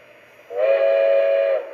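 A single steady whistle from a Lionel I1 Decapod model steam locomotive blows for about a second, clear and fairly loud, with a bright tone against a quiet background.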